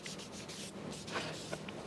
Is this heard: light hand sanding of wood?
yes